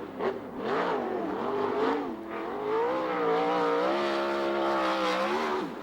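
A 410 USAC/CRA sprint car engine wails around a qualifying lap at Ventura Raceway, its pitch rising and falling as it accelerates through the straights and lifts for the turns, loud and close throughout.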